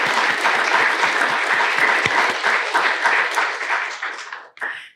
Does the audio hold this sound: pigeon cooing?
no